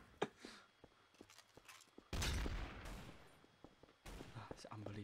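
Gunfire rings out in the video game Trouble in Terrorist Town: sharp single shots early on, then two loud, sustained bursts of rapid fire with rumbling echoes, with voices talking faintly in between.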